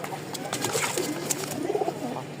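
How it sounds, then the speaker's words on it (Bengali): Pigeons coo in soft, repeated low rolling calls, close by, with a steady faint background hum. "এই হচ্ছে এক জোড়া মোট এখানে হচ্ছে দুই পেয়ার কবুতর"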